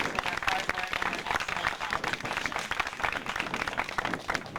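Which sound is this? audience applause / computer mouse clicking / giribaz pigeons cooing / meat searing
audience applause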